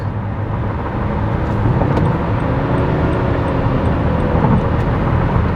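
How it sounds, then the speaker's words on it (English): Steady engine drone and tire roar from a 2020 Nissan Pathfinder SUV cruising at speed, a continuous broadband rumble with no talk. "Quite a bit of a road noise or exterior noise."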